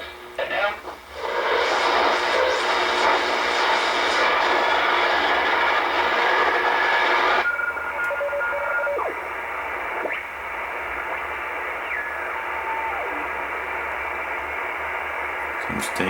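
Shortwave station WWCR received on 4840 under poor nighttime propagation, a dense hiss of static and noise with a faint broadcast underneath that shifts partway through.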